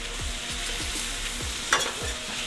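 Bourbon-infused ground beef frying in a pan gives a constant sizzle, punctuated by rhythmic scraping strokes of a spatula roughly every half second, with no talking.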